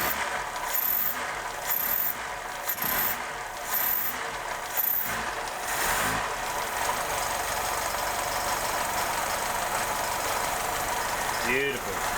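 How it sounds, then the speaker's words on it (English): A Mk3 car engine revving after new fuel lines and a fuel filter, with a rough, knocking running note and repeated bursts of revs early on, then settling to a steady, uneven idle. "Give it a rev, Bill."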